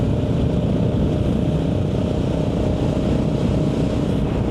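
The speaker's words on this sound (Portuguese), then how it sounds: "A moto do Lê tá falhando" A 1988 Yamaha Ténéré motorcycle engine running rough and misfiring, a loud, steady, close-up drone with a dense uneven low rumble and no talk.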